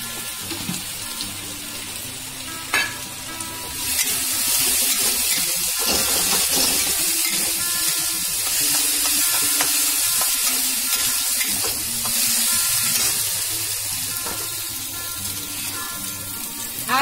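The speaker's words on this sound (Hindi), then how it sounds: "तो लहसुन अदरक का जो पेस्ट है इसको 1 मिनट तक भूनेंगे" Garlic-ginger paste frying in a kadhai, a steady loud sizzle with repeated scraping strokes of a stirring spoon throughout, growing more intense partway through and continuing without talk.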